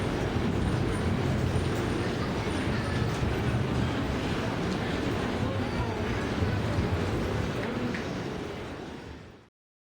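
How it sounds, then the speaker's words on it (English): A Yamanote line commuter train in Tokyo rumbles along continuously, a broad steady roar with faint squeals, then fades out abruptly at the end. "The Yamanote line surrounds the city day and night."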